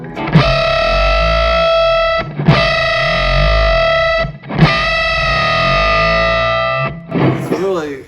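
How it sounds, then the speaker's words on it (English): An electric guitar played through a Cornford Hellcat amp rings out three long, distorted, dissonant chords with a wobbling, clattering shimmer, then ends in a short scratchy burst; loud and close, alone. "very few amps will get that clattering back and forth. It almost sounds like somebody taking a ping pong ball and getting closer and closer"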